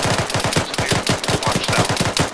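Suppressing gunfire aimed at a bunker in a video game, a loud, rapid automatic burst of closely spaced shots running without pause.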